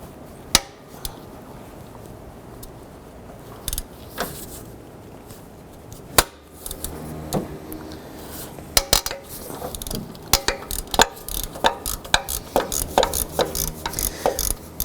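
Ratcheting clicks and sharp metallic clanks from a 12mm socket wrench loosening bolts at the hydraulic serpentine belt tensioner of a 2007-2011 Honda Civic, in irregular bursts with short pauses, close and fairly loud.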